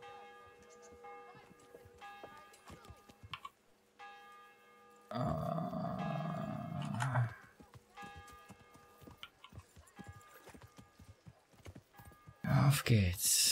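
Horse hooves in the video game Kingdom Come: Deliverance clip-clop in a quick trotting rhythm, with bell tones lingering in the background and a few louder bursts of movement.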